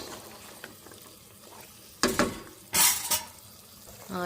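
Green chili masala stirred into mutton chops in a pan, with a soft sizzle underneath and two loud bursts of a spoon scraping and clattering against the metal pan.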